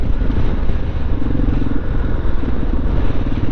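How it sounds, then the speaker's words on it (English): Motorcycle with an aftermarket exhaust cruising in fifth gear, a loud continuous throaty engine drone close to the rider, with wind rush mixed in and no speech. "Listen to how good this bike sounds. That is 5th gear."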